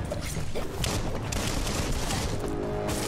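Gunfire rattles without pause in the video game Biomutant, with rapid shots and booming bursts piling into a loud, dense fusillade.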